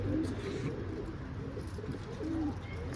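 A pigeon coos nearby, soft low throaty calls repeating against steady outdoor background noise.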